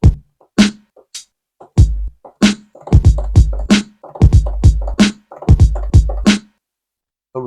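Punchy hip hop drum pattern in the style of boom-bap beats: heavy kicks and snappy snares in a steady looped groove, loud and close, with short gaps between hits and no talking.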